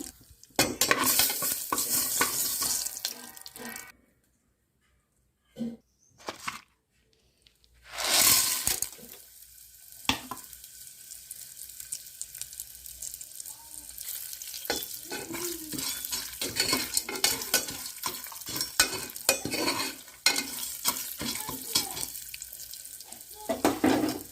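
Homemade popcorn tossed with chilli powder and turmeric is stirred in a pan, giving repeated scraping and rustling strokes with a brief quiet gap early on, moderately loud and close.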